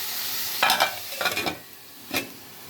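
A spoon stirs a potato, tomato and eggplant curry in a pan, making three short scraping bursts of stirring over a light, steady sizzle.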